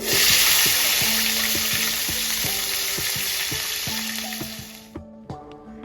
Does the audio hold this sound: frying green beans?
yes